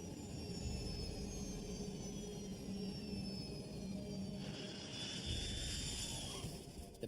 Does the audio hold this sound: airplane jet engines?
yes